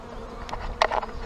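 Honey bees buzzing close by at a hive box, a few individual insects droning past in short bursts over a low background hum.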